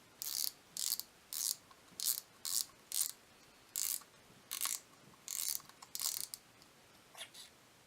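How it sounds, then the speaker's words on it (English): Fishing reel spool being unscrewed counterclockwise during reel maintenance, giving a run of about a dozen short, crisp ratcheting clicks in quick irregular bursts, close up and fairly quiet with no talking. "What you want to do first is you want to take off the spool"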